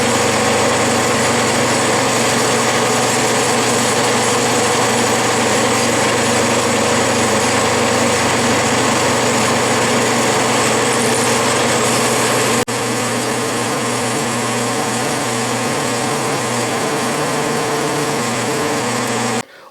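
Bridgeport milling machine cutting a 45-degree angle on a C-clamp swivel, a loud, steady, continuous mechanical hum and whine with a constant tone, without a break for almost twenty seconds.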